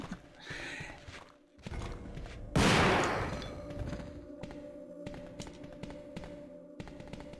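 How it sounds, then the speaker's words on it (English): An upgraded shotgun in Resident Evil 2 fires one loud, close, burst-like blast in the middle, surrounded by quieter taps, footsteps and thuds before and after. "It's amazing, the upgraded shotgun."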